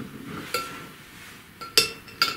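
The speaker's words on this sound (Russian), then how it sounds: "Накрываем желток и начинаем взбивать." Sharp clinks of a utensil striking a bowl while an egg yolk for homemade garlic mayonnaise is whisked, three bright taps spaced unevenly over a faint background, no talk.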